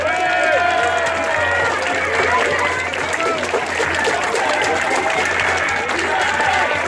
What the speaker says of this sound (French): vous pouvez vous applaudir tous pour votre présence